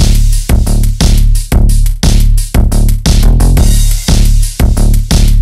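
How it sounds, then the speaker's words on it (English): Drums and a bass line played together in a produced track: a dense, loud loop of thumping kicks, snappy snares and hi-hats over a sustained low bass line, steady and unbroken. "Let's just hear the drums and the bass line to make sure they're working well together"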